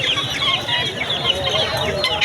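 Poultry calls fill a busy farm yard where a turkey is kept among various foreign chicken breeds; repeated close clucking and gobble-like calls overlap, with people talking nearby.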